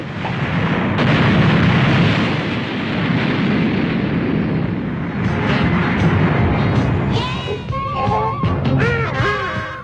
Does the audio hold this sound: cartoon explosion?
yes